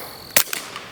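A single sharp crack from a .22 Bullseye pistol, a Ruger Mark IV 22/45 Lite, fired outdoors at a range, with a brief decaying echo and a faint distant report after.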